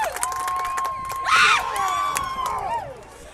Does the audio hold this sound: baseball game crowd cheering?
yes